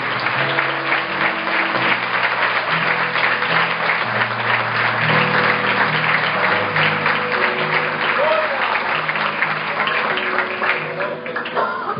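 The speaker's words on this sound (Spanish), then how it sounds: "vamos a dar un aplauso al Señor por esa gran victoria" Congregation applauding during a Spanish-language missionary church service, steady dense clapping throughout with sustained instrumental music tones running underneath.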